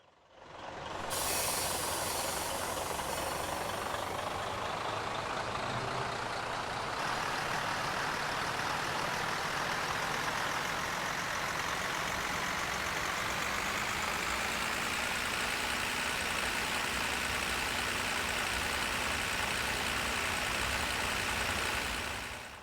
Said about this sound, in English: The engine sound is very scratchy, especially when it's set at full power